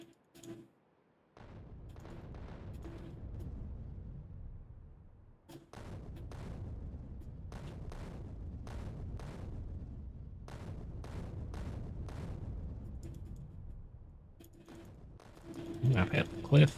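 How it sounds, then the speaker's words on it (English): Repeated mortar shots in Factorio, sharp launch thumps recurring at irregular intervals over a steady low rumble, with a brief louder burst of impacts near the end. "I spent yesterday after Razor clocked off just shooting mortars like this"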